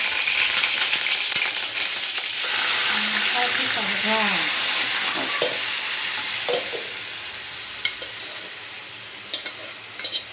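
A spicy tempering of cumin, mustard seeds and curry leaves sizzles loudly in hot oil for a horse gram curry, a dense close crackling hiss that eases toward the end, with a person speaking briefly over it and a few utensil clinks.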